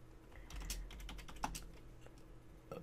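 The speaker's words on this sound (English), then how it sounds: "they would type in their response" Computer keyboard being typed on, a short burst of scattered key clicks at close range over a low background hum.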